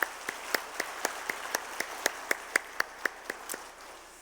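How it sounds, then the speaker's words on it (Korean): Rhythmic, unison clapping from a church congregation at a Wednesday worship service, evenly paced beats about four per second over a soft background of scattered hands, moderately distant and steady. "사랑의, 수고의, 격려의 박수를 다시 한번 같이 하겠습니다"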